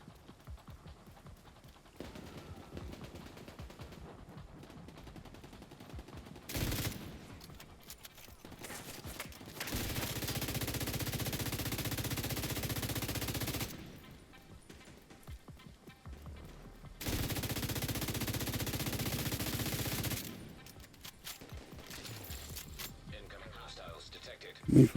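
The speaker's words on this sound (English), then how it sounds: "Shooting at me, but I don't know where from." Gunfire during a freeform manhunt game, with two long loud sustained bursts of rapid shots, each several seconds long, separated by quieter stretches of background noise and movement.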